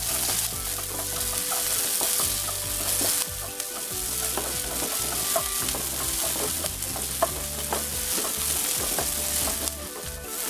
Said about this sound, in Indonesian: Panaskan sedikit minyak, lalu tumis bawang putih,